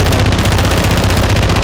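Rapid automatic gunfire from a long-range gun in a first-person shooter video game, a loud, dense stream of shots rattling without pause, heard alone with no talk.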